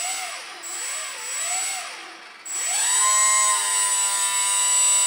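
The small electric motor of a Delta Ray One RC plane revs up and down in quick repeated throttle bursts, then holds a high steady whine with a thin, close, fairly quiet tone.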